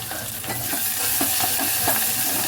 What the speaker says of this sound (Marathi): अर्धा चमचा मी आला लसूण पेस्ट टाकतोय हे बघा